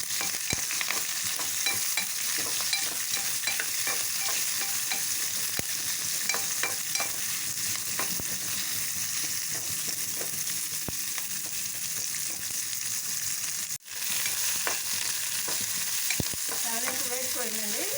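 Curry leaves, chopped onions and green chillies frying in a pan for ivy gourd fry, a steady loud sizzle running throughout with occasional stirring clicks and a brief dip near the end.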